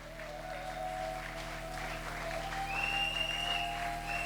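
A church congregation at a Sunday service claps and cheers in a steady, moderately loud wash of applause, with some whistling or held tones rising near the end and no speech over it.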